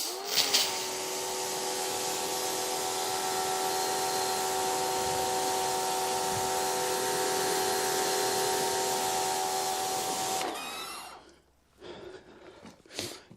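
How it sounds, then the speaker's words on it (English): A Muc Off pressure washer blasts dirt off a bike, a steady broadband hiss running about ten seconds alone before cutting out to a few faint handling clatters. "What I'll do, I'll give it a quick blast off to dislodge all the dirt"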